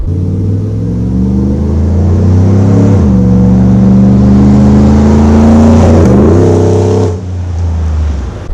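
Restored and modified Ford Bronco with a Borla exhaust revving hard, a loud, deep rumbling engine note that rises and falls through several throttle blips before easing off near the end.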